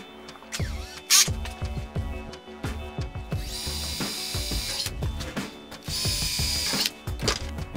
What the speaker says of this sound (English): all we have to do is just drill uh, a hole here and a hole on the other side